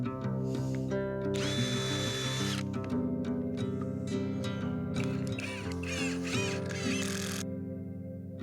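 A power drill whirs in long bursts, up close, as bolts fasten roof-top tent cross members to the rails, the motor pitch rising and falling with squeaky bits between runs.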